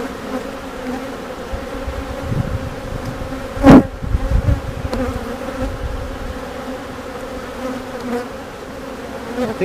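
Honeybees hum steadily around an open hive during a routine inspection, a continuous low buzz close by with one louder bee passing near the middle.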